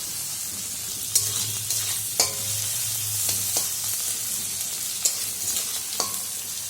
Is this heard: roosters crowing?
no